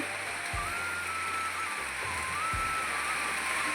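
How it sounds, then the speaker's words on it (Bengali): Rainwater leaking through the roof of a run-down house and pouring from above onto the floor and under a bed, heard as a steady watery splashing and trickling wash with a few heavier low splats. "এটা কিন্তু পুরো ওপর থেকে পড়ছে ডাইরেক্ট ওপর থেকে জল পড়ছে"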